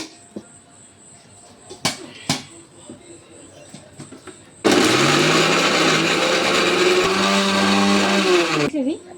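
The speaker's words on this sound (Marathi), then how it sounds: "टमाटा आणि कांदा मिक्सरमधून काढून घ्यायचे." A kitchen mixer grinder whirs loudly as it blends tomato and onion, starting abruptly after a few faint clatters and running for about four seconds before cutting off.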